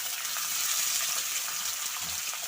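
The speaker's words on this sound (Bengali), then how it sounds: "তো সজনে ডাঁটাটাও দিয়ে দিচ্ছি, একসাথে ভেজে নিলে।" Moringa drumsticks frying in a pan, a steady bright sizzle continuing evenly throughout, with faint stirring underneath.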